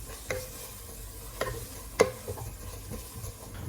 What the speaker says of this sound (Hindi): एक बार मिला लेंगे हम सभी चीज़ों को एक साथ